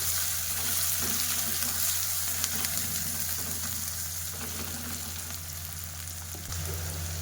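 Onions for tindora sabji sizzle steadily in a pan over a medium flame, an even, close frying hiss with light stirring scrapes throughout.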